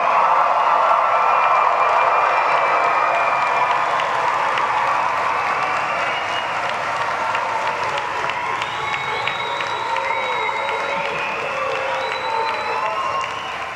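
A large commencement crowd in an arena claps and cheers continuously, a dense wash of applause with scattered shouts and whistles that holds steady and loud from start to finish.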